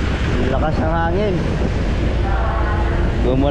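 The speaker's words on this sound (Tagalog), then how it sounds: "Ang lakas ng hangin." Strong wind buffets the microphone in a steady, loud roar with low rumble throughout a road trip, while voices talk over it.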